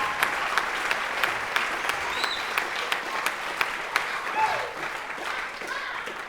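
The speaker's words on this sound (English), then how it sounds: "give yourselves a round of applause for being here tonight" Audience clapping steadily at a live evening event, a broad wash of many hands with a few whoops rising above it, continuous and fairly loud throughout.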